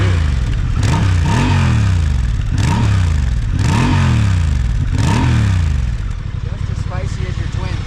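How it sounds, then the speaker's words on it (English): A Honda TransAlp XL750 parallel-twin motorcycle engine revved hard several times in a row, each blip rising and falling in a regular pattern, loud and close, then settling to a rough idle. "he's going to rev the engine so you can hear what it sounds like."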